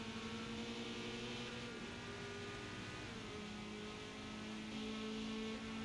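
Ferrari race car engine in a Forza racing game at Mugello in a rainstorm, a steady droning whine held throughout at a constant level, with a brief pitch dip midway and no talking.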